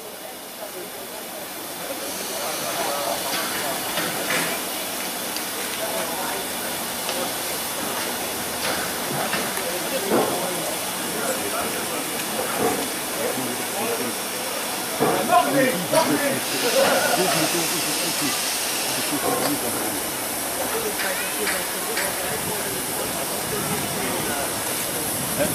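A steam locomotive at the Dresden steam locomotive meeting hisses steadily while it rolls into the engine shed, with a continuous rushing steam noise, occasional louder puffs and clanks, and people talking over it throughout.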